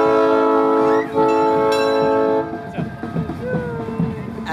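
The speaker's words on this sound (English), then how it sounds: "Choo choo train!" A train in a Christmas parade sounds a loud, sustained horn that cuts off briefly and then resumes. The horn then fades into rumbling street noise and faint crowd sounds.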